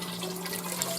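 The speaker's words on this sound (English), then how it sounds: "So we're going to add a couple more cups of water" Cups of water are poured into a pot of French onion soup, a soft, steady splashing pour heard close and alone.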